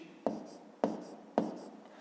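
Pen strokes on paper while working a fifth-grade math exercise: three distinct short scratches at a steady pace, close and fairly quiet, with no voice.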